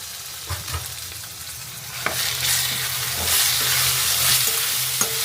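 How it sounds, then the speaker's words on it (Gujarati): Masala spices with chopped tomato frying in a pan, a steady close sizzle broken by scraping stirs and occasional clinks of the spoon, rising a little louder as cooking goes on. "ટમેટાનું ઝીણું કટિંગ કરી અને હવે મસાલો નાખી દે."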